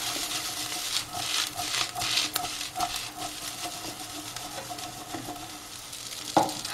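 Vegetable noodles stir-fried with masala over a high flame, with continuous close sizzling and repeated scraping and tossing strokes of the spatula, plus a sharper clack near the end.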